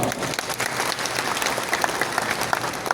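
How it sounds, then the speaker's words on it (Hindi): Applause from a crowd at a political community gathering, dense continuous clapping at steady strength across the whole clip. "तालियां बजती रहनी चाहिए"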